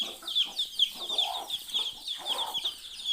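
Hens clucking repeatedly at close range after hatching chicks, a run of short, busy clucks and calls with small variations in pitch and rhythm and no talking.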